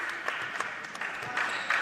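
Scattered hand claps ring out from the crowd at a men's college basketball game, a light patter of applause, moderately close and without talk over it.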